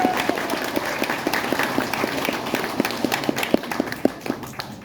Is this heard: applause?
yes